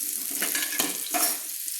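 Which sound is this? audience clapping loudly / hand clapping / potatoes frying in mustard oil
potatoes frying in mustard oil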